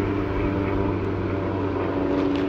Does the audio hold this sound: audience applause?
no